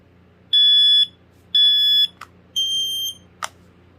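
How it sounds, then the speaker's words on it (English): A FireX 4618 photoelectric smoke alarm's piezo sounds in three shrill beeps, each about half a second long, with a couple of short chirps between them. "It just sounds the piezo as intended."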